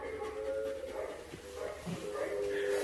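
A Belgian Malinois in a training session gives thin, high whimpers and short yips, moderately close and intermittent, with a person's voice speaking at times around them.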